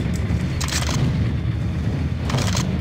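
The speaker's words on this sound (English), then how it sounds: "Oh wait, no, that's a grenade launcher." Grenade launcher blasts in the Max Payne video game boom loudly over a constant rumble of gunfire and action, with two sharp bursts standing out near the start and again toward the end.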